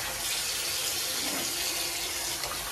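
Water gushes steadily from a kitchen tap into a pot while tripe soup is being made, a close, continuous rushing splash.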